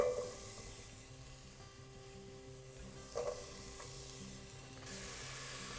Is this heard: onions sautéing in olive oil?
yes